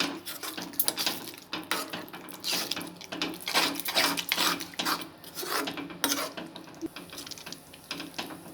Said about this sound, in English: Just mash the tomatoes like this and stir it.